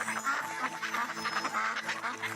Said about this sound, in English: Ducks can swim, ducks can fly, and ducks can walk on land.